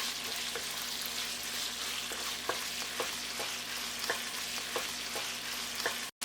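Shrimp sizzle in a pan over high flame, a steady loud hiss of hot oil with occasional sharp pops and stirring scrapes throughout, no voices.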